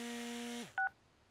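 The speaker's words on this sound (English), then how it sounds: "It's Love's mighty cell phone." A cartoon cell phone gives a steady tone that drops away, followed by a single short beep of a dialing keypress, clean and close with nothing else around it.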